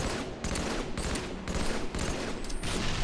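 Rapid bursts of automatic gunfire crackle continuously from a video game firefight, dense and close with no pauses and no talking.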